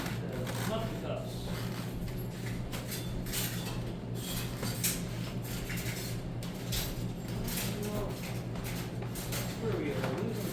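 Muffin batter spooned into muffin cups, with steady clinks and scrapes of spoons against cups and bowls running continuously at close range, over a dense background of kitchen noise.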